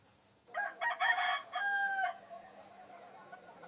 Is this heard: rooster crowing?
yes